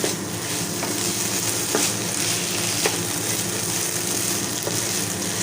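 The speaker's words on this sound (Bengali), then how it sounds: "3-4 মিনিট পর ঢাকনাটা উঠিয়ে একটু ভালোভাবে নেড়ে নিব।" Potato filling for singara frying in a pan over medium heat while being stirred, giving a steady, even sizzle with a few faint scraping knocks of the utensil against the pan.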